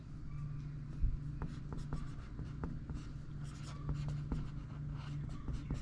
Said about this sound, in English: I'm gonna write this down because you guys told me to write this down